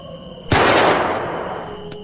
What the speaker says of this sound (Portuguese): E o pipoco do tiro parecia um trovão na mata aquela hora da madrugada.